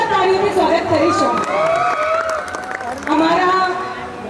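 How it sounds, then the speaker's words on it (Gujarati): An expo stage crowd in Surendranagar cheers and claps as a beauty salon and academy is welcomed, loud and continuous, with shouting voices and a swelling burst near the end. "Please put your hands together for Shruti Beauty Salon and Academy"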